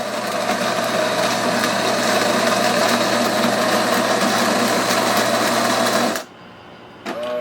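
A home espresso machine buzzes loudly and steadily as its pump presses water through coarsely ground coffee, then cuts off abruptly near the end, leaving quiet.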